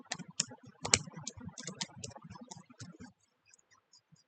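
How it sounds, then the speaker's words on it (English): Typing on a computer keyboard while building a website layout: a quick, close run of crisp key clicks for about three seconds, then a few scattered taps before falling quiet. "I'm going to type it."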